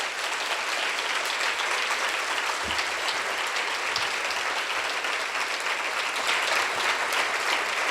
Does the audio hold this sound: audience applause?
yes